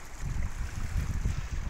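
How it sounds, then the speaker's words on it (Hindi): Fast-flowing river water rushes with a low, churning roar, steady and fairly faint, with no voices. "वो पानी वहाँ से आ रहा है ना देख लो कितने भयानक स्पीड में आ रहा है"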